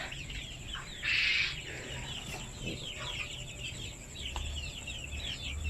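Native Thai village chickens at a backyard farm, nearly ten roosters among them, cluck and chirp close by in a steady scatter of calls, with one louder, brighter squawk standing out early over a constant insect-like hiss.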